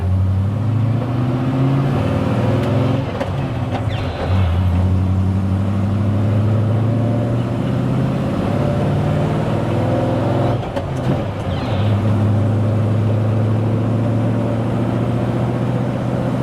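A 1967 Toyota FJ40 on 37-inch tires, its engine droning steadily in second gear with a loud, continuous low rumble, briefly dipping and rising around gear changes, close-up from inside the cab.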